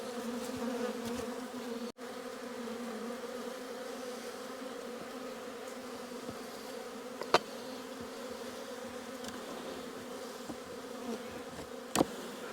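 Honey bees buzz steadily during a spring beehive inspection, a continuous close hum filling the air with faint clicks and frame knocks, no voices.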